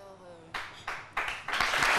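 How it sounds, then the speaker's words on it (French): A TV studio audience claps in several quick swells, each burst of applause louder and fuller than the last, after a host's voice. "il faut les applaudir"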